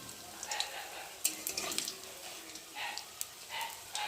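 Onion fritters (piyaji) sizzle and crackle in hot oil in a home kitchen, with occasional stirring clinks and scrapes; the frying noise is steady and moderately close, with no talking.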